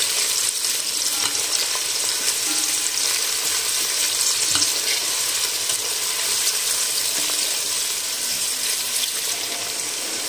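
Green onion whites frying in oil in a pan, a steady, even sizzle throughout with occasional faint clinks and no talking.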